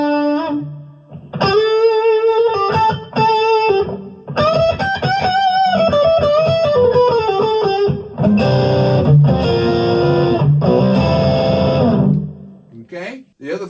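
An electric guitar played through a Hotone Stage set for a Dumble-style tone rings out in sustained, clear notes and chords, with a light reverb tail trailing each phrase.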